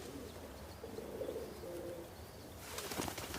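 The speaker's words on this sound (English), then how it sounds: "A flock of pigeons," Pigeons in a flock coo softly in a steady low murmur at a distance, with a burst of rustling and flapping near the end.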